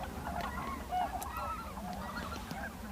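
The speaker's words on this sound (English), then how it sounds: "These guys are white-fronted geese." White-fronted geese honking in a busy flock on a damp spring stopover during migration north to Arctic nesting grounds, a steady overlapping chorus of calls with tundra swans nearby.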